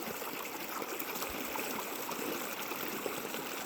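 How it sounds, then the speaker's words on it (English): A steady wash of stream water flowing nearby at an outdoor prospecting spot, with a constant broadband rush and small trickles and gurgles on top and no voices. "Get to sit by the water and it's just kind of calming and relaxing to hear that all day."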